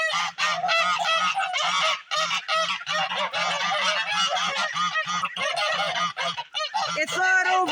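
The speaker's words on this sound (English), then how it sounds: "The geese just broke up that pair." Geese honk loudly and continuously at close range while breaking up Muscovy ducks, with harsh overlapping calls in rapid bursts that barely pause for several seconds.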